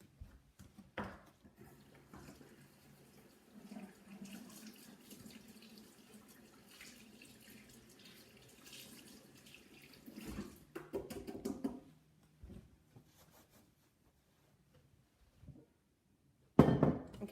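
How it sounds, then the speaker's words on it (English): Running tap water pours steadily into a sink as hands are washed, a continuous hiss broken by a few knocks and thuds before it stops, followed by quiet and a sharp clatter at the end. "I'm going to wash my hands."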